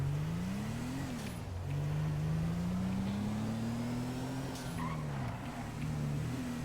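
A Hemi car engine in GTA 5 roleplay accelerates through gears, its tone climbing, dropping at shifts and climbing again, a steady loud drone with no talking.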